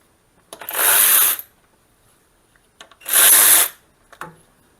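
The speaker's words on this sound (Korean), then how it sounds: "안쪽으로 들어가서 여기 있는 볼트 두 개를 먼저 풀읍니다" A power tool spins out bolts during a cooling fan installation on a Kia Mohave, giving two loud, close bursts of high whirring about a second each, with faint clicks between them.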